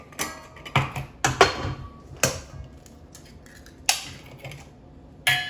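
Four eggs cracked one after another into a mixing bowl while making Southern bread pudding, giving sharp, close taps and cracks spaced irregularly with quiet gaps, no talking.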